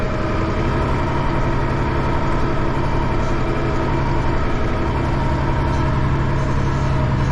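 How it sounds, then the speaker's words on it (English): A car engine idles close by on a pumpkin farm in the Kaw Valley, a steady low rumble that runs unbroken and evenly loud throughout with no voices over it. "Got another car up there"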